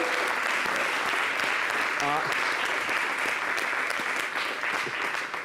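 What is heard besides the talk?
audience applause for the winners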